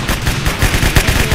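Rapid gunfire from a gun in the video game Arsenal, a loud burst of closely spaced shots repeating evenly for the whole stretch with no talk.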